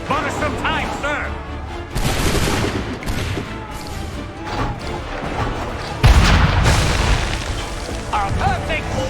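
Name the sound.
cannon shot exploding in Assassin's Creed III video game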